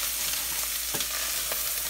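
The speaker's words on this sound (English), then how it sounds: "I will continue cooking them with this, with the onions and garlic and the thyme." Anchovies (omena) frying in a pan with onions, garlic and thyme give a steady soft sizzle, broken by a couple of brief stirring scrapes near the middle and end, with no talking.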